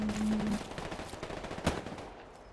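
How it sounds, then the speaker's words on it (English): Machine gun fire in Hell Let Loose, a World War II shooter, comes as a rapid, moderately loud string of shots that tapers off, with one sharper crack near the end. "Yep, machine gun nest right here."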